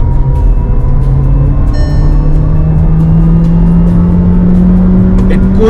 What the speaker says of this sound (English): One thing I want to show you is the way the engine sounds like.